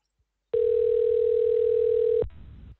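A single loud, steady electronic telephone tone from a played video holds for under two seconds, then cuts off abruptly, leaving a faint noisy tail.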